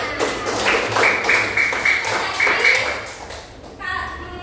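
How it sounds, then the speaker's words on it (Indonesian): Children in a classroom clap their hands in short, rhythmic bursts, close and fairly loud, with voices heard around the clapping. "Tepuk tangan."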